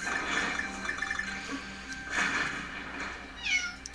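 A cat meows in Donkey Kong Country Returns, heard as short, bright cries over busy game music, with a clearer, louder mew near the end.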